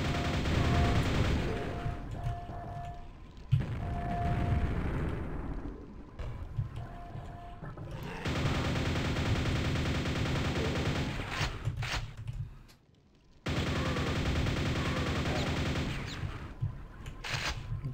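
Gunfire and grenade blasts from the Quake video game come in dense bursts of shots and booming explosions, broken by short lulls and a near-silent gap before the firing resumes.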